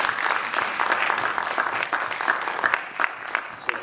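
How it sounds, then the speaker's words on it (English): Audience applause at a folk and gospel music concert in the Fort Monroe theater, a steady wash of many hands clapping with a few sharper individual claps standing out, moderately close and continuing throughout. "So I think that deserves a round of applause"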